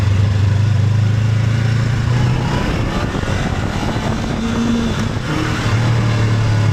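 Honda NX 500 E-Clutch motorcycle riding along with a steady, loud engine drone and wind rush, the engine tone dipping and rising as it shifts and eases off near the middle.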